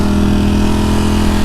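A motorcycle engine runs steadily and loudly while its tires are warmed up, a constant close mechanical drone with a firm low hum and no clear rise or fall in pitch, and no talking.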